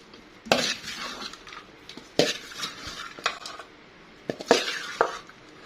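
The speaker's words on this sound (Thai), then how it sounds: "จากนั้นก็ คนครับ คนให้เข้ากัน" Larb being stirred together with fresh herbs like spring onion and coriander, giving close, irregular scrapes and clinks of a utensil against a bowl with several sharper knocks, no talking.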